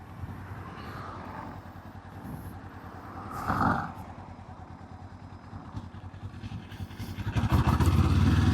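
A 500cc motorcycle pulls away from a stop in second gear on a city street, its engine idling low and steady before revving up loudly and building toward the end.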